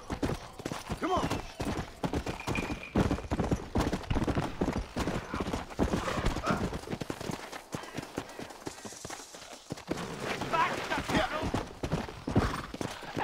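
Horse hooves clip-clopping at a gallop in the Red Dead Redemption video game, a steady rapid rhythm of close, loud hoofbeats with a brief pause midway and people talking over it.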